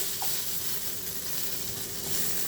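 Brinjal and potato pieces fry in hot oil in a pan, a steady close sizzle and hiss with faint stirring, no voices.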